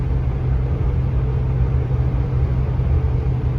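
An old Ford car drives along a country road in late fall: a steady, close, low engine and road rumble that holds even for a few seconds, with no talk.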